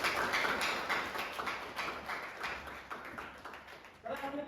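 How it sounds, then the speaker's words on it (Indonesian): A classroom of students claps together in a steady rapid patter of hand claps, fairly faint and roomy, fading slightly before a voice speaks at the end. "Tepuk tangan dong."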